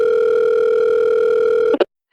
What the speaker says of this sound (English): She dialed the phone.